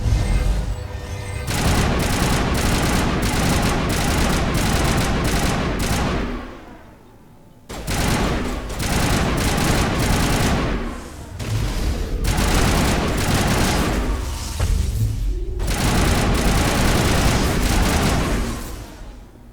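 Assault rifle gunfire in the video game Mass Effect: long sustained bursts of rapid automatic shots, loud and dense, broken by two short pauses.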